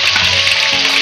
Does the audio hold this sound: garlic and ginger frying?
yes